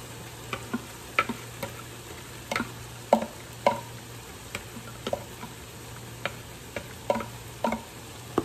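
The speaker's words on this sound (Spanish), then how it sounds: "Ahora vamos a poner lo que licuamos, el tomate, el pimiento y la cebolla." Blended tomato, pepper and onion sauce goes into a pan of frying lamb or beef for a stew, giving a steady low sizzle broken by scattered sharp spoon clicks and scrapes as it is stirred, with no talking.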